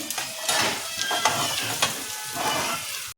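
Chopped onions and two dried red chillies frying in a pan for masoor dal, a loud continuous close sizzle with occasional stirring scrapes, cut off abruptly at the end.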